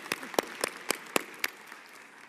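Scattered, sparse clapping from a commencement ceremony audience, a handful of distinct claps spaced unevenly over a couple of seconds rather than a full ovation, fairly quiet.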